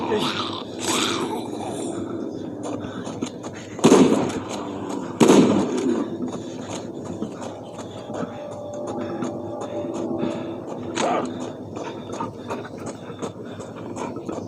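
Shotgun blasts fired at zombie hordes in the mobile game Into the Dead 2, two loud booming shots a second or so apart standing out over steady game noise and ambience, with talk running through.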